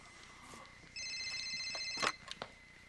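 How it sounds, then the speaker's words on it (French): Mobile phone ringtone chiming at close range, a steady electronic tone pattern that starts about a second in and runs to the end, briefly overlapped by a sharp clatter near the close. "On tente de communiquer avec moi par le biais de mon téléphone portatif!"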